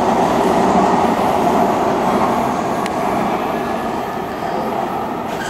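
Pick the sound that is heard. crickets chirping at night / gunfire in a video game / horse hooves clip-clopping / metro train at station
metro train at station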